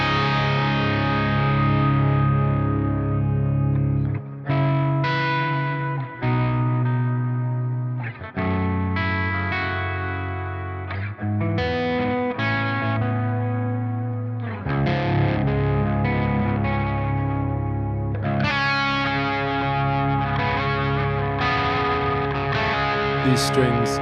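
Electric guitar run through distortion and effects units, playing loud sustained chords and riffs with short pauses between phrases.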